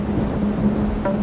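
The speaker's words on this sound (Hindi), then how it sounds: "ठीक उसी समय फिर से बारिश शुरू हो जाती है।" Steady rain pours down with a low rolling rumble of thunder underneath, a dense continuous wash that stays loud and even throughout the short stretch.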